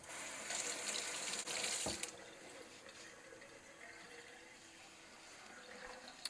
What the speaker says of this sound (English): I need to rinse off these grape leaves